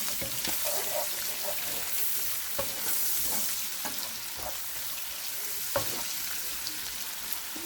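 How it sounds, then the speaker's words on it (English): Onion and hot pepper frying in a pan, a continuous close sizzle broken by repeated scraping stirs at irregular intervals. "that's all the ingredients you'll be using to fry the okra"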